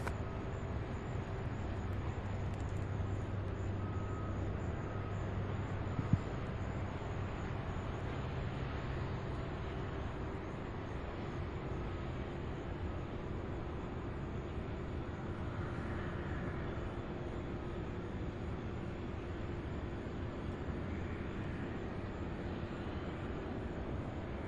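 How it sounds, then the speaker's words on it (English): UPS MD-11 cargo plane taking off, a constant distant jet roar with a low rumble that stays even and unbroken throughout, with no voices over it. "Fantastic takeoff there by that UPS MD-11"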